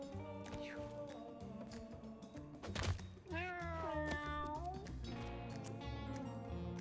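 A cartoon cat in a video game meows in a few drawn-out, rising and falling cries over steady background music, with a soft thunk midway.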